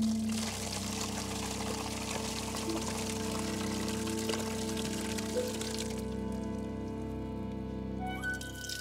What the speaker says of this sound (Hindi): उन्हें पानी से भर दो।